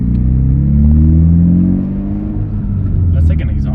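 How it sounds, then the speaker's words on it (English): A Mitsubishi Evo VIII with an exhaust leak rumbles loudly up close while driving, its engine note rising and falling through revs, with a raspy rattling edge and people talking. "That's like an exhaust leak."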